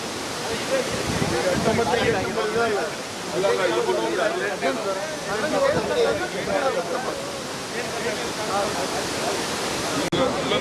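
Water rushes heavily through the gates of the Tungabhadra dam in a continuous, broad roar that stays loud from start to finish, with people talking faintly underneath.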